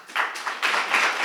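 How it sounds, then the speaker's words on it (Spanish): An audience applauds at a book presentation, a brief burst of many hands clapping close by in a dense, bright patter that swells after a moment. "A mí no me aplaudáis a él"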